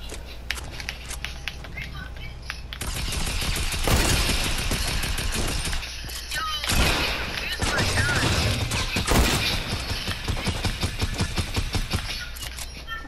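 Double-barrel shotgun fire in Fortnite among other game gunfire, with loud bursts of shots and repeated blasts clustered over several seconds, heard along with players talking.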